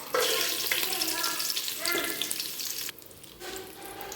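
Whole spices such as cinnamon, cloves, fennel, cardamom, star anise and bay leaves sizzling in hot oil for chicken biryani, a bright crackling hiss that drops sharply for a moment before resuming, with no talking over it.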